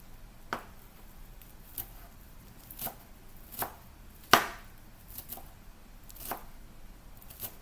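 A knife chops parsley on a board in a home kitchen, with about nine sharp, separate strikes at an uneven, unhurried pace. The sound is close but fairly quiet, and no voices can be heard.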